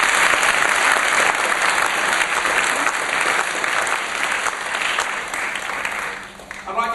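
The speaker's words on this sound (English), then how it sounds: "Give him a big round of applause." Loud, sustained audience applause at a London keynote talk, dense clapping filling the room for several seconds before thinning out near the end.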